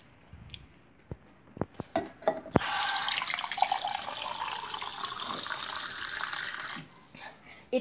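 A tap runs steadily for about four seconds as a bright, full gush of water, preceded by a few sharp clicks and handling knocks in a quiet room.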